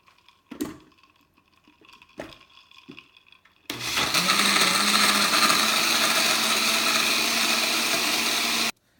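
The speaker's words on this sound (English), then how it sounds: "mix it in the blender for about 3 minutes." A few clunks and taps as ice goes in, then a blender whirs loudly and steadily for about five seconds, churning rice, cinnamon, water and ice for horchata before cutting off abruptly.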